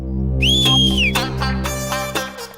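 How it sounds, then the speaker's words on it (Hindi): A man whistles at a woman in a single loud, close two-tone wolf whistle, a rising note that slides back down, heard alone over a steady background hum. "सीटी मार रहा हूँ।"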